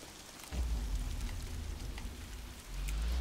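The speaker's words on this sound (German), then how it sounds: "Oh nein, es regnet schon wieder." Steady rain hisses and patters in the Days Gone video game, with a low rumbling layer that swells, dips briefly and returns, close and continuous.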